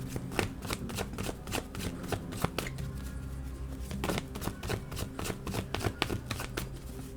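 A deck of cards is shuffled repeatedly in rapid riffling bursts with sharp snaps, close and continuous throughout, with no talk.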